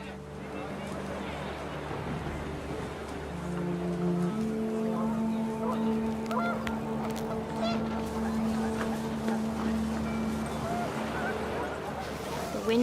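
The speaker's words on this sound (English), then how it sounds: "The wind picked up and panicked geese appeared and quickly went." Panicked geese honk in What Remains of Edith Finch as wind picks up, a dense flock of overlapping calls sustained throughout over a steady low rumble, loud and close.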